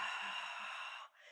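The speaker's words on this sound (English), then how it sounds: "Now remember, if you want to try Ujjayi breathing," Ujjayi yoga breath drawn through a contracted throat with lips together, a steady, close breathy hiss lasting about a second before it fades, then a softer trailing breath.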